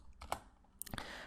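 A few quick keystrokes on a computer keyboard, close and faint, sparse clicks over about a second with no talking.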